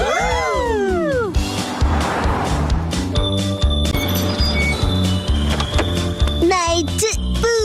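A cartoon car drives along in a Shinchan episode, a steady engine hum and rattling rhythm under cheerful music-like tones, with animated voices and whooshing sound effects at the start and end.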